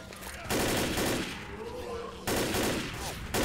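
Rifles fire in Left 4 Dead in two long, dense bursts of close, loud gunshots with a short lull between them.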